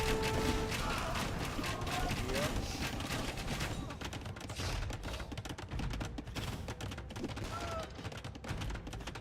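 Rapid gunfire volleys crackle in a medieval strategy video game, dense bursts of shots over a busy battle din.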